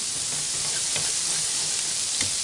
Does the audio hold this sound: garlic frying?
yes